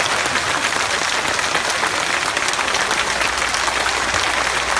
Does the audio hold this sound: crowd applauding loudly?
yes